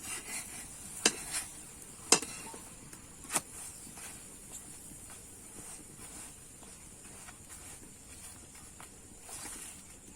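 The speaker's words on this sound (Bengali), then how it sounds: "এইভাবে কিন্তু উল্টে পাল্টে ভালো করে ভেজে নিতে হবে" A tomato paratha fries gently in ghee on a pan, a faint soft sizzle broken by a few sharp spatula taps as it is flipped, quiet and close with no voices.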